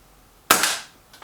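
A single shot from a regulated BSA R10 Gen2 air rifle: a sharp, close crack with a short decaying tail, followed by a faint second tick from the pellet's impact. It stands alone against near silence.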